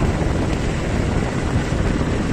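Helicopter hovering over a mountain hut area during a hoist rescue of a hiker, a steady, loud broadband rotor and turbine roar mixed with wind buffeting, continuous for the whole stretch with no voices.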